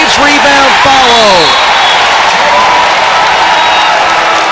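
A basketball arena crowd roars and cheers during a Buffalo versus CMU college game, a loud sustained wash of voices and applause with a few whistle-like tones early on, filling the whole stretch.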